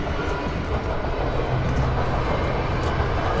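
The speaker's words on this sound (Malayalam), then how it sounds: "അങ്ങനെ ട്രെയിൻ വരുന്നുണ്ടല്ലോ" A loud, continuous rumbling roar of a passing train, with a low steady drone and broad noise that stays strong and close for the whole stretch.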